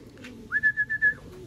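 Pigeon calling in a rooftop loft during young bird training, a single close, clear whistling coo lasting about half a second over low background hum, no talk.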